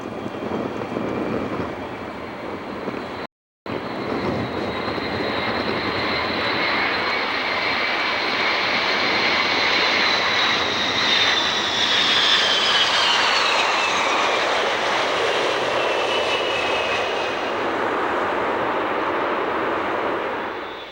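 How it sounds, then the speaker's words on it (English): A McDonnell Douglas DC-10-30F freighter jet lands at Miami International, its engines roaring loud and steady throughout with a rising whine near the end, broken by one brief dropout. "owns a pair of DC-10 30F freighters, one of which is seen landing at Miami International"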